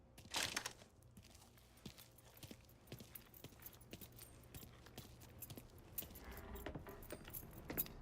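Jangling keys clink and rattle in scattered small bursts in the crime game Mafia 3, faint and close, with a brief louder rustle at the start and no voices.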